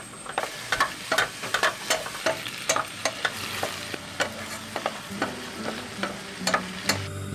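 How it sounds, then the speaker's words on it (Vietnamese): Mushrooms sizzle in a hot pan while a utensil scrapes and taps repeatedly in an uneven stirring rhythm, close up with no talking. "Và mình cho nấm vào xào lên."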